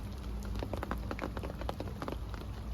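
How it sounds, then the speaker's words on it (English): Rain patters steadily on a bivvy roof, a dense fast clatter of close drops over a soft low rumble, quiet and continuous with no voices. "enjoy the sound of the rain clattering against the roof of this bivvy"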